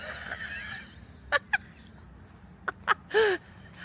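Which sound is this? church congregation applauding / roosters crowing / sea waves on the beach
roosters crowing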